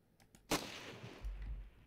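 A single sharp gunshot from the video game Ravenfield cracks out after a few faint clicks, followed by a brief low rumble; quiet overall.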